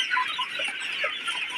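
Sonali chickens on a poultry farm cluck softly in overlapping calls over a steady flock murmur. Nobody talks.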